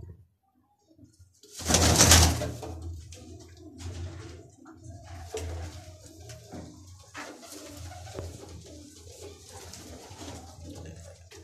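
A Lal Pari pigeon coos in repeated throaty phrases up close, following a loud burst of noise near the start, then softer rhythmic calling continues alone.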